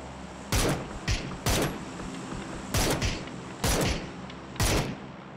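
Gunfire in the battle-royale video game PUBG cracks out in five sharp, loud shots spaced about a second apart over a steady background hum, with no talk.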